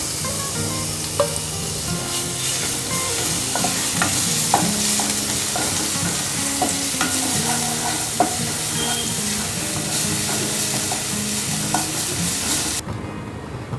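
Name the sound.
ginger garlic coriander paste frying in oil in kadhai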